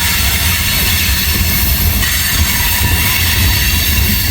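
A massive freight train with locomotives and mid-train and rear DPUs climbs a steep grade, its loud, steady rumble of engines and rolling wagons broad and close, with faint wheel squeal and no voices.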